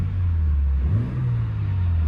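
A BMW M2 G87 idles steadily, heard through an open window, with a low, even engine drone that briefly rises in pitch partway through before settling back.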